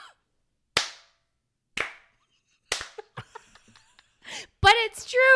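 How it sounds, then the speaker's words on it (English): Three small, sharp hand claps ring out about a second apart, each crisp and isolated, before people start talking and chuckling. "does her little clap for doing the bare minimum"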